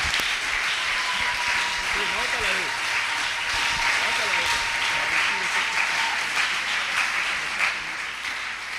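A church congregation breaks into sustained, full-room applause with scattered cheers, while a voice carries faintly through the clapping for the whole stretch.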